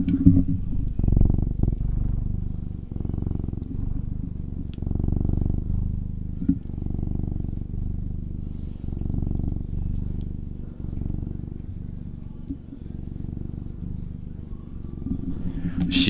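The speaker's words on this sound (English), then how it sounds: "She is the loudest purr in my house, so enjoy that." A steady, close, low rumbling purr from a cat that continues evenly throughout, with soft rhythmic pulses and no talking.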